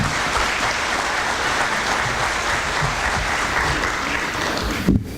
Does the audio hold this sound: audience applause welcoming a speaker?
yes